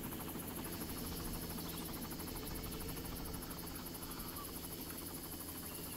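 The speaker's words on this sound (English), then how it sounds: "They let a drunkard fly this plane." In the Far Cry video game, an aircraft drones overhead as a steady, faint buzzing engine hum with a rapid propeller flutter, continuous and without talk.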